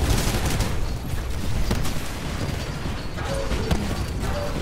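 Explosion and rapid gunfire in the video game Titanfall, a dense continuous barrage of blasts and shots with mechanical clanks, loud and sustained across the whole stretch.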